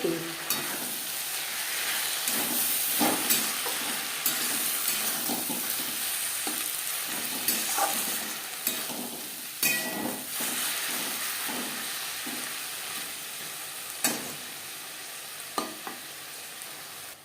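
Onions fry in a pan with a continuous close hiss and sizzle, broken by occasional scrapes and taps of a spatula stirring, no voices.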